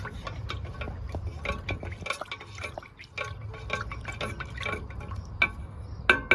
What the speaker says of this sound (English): Quarter cup of lighter fluid.